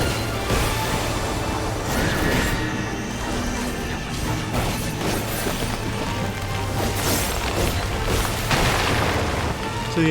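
Flowering plants bursting in Final Fantasy XIV Dawntrail, the larger blooming ones giving bigger blasts: a dense, continuous barrage of loud booming pops and crashes layered over game music with no break.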